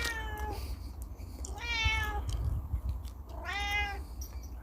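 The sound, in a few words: cat meowing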